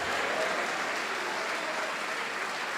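A church congregation applauding, a dense, even wash of many hands clapping at once, loud and sustained throughout with no break.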